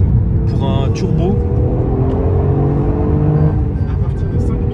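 Toyota GR Yaris turbocharged three-cylinder engine revving loudly from inside the car, its pitch sweeping upward through the revs over a constant heavy cabin drone.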